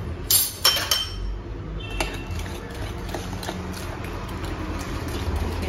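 Melted butter and sugar being stirred in a bowl for eggless chocolate chip cookies, with sharp clinks of utensil against the bowl early on, then softer scraping and tapping, close and without speech.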